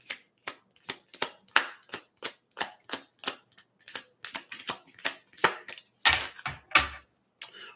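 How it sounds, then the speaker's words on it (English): Playing cards riffled in a jumper shuffle, a rapid run of crisp, evenly paced flutters and snaps heard up close with no talking, closing on two fuller, heavier bursts as the cards settle. "I'm doing the jumper shuffle."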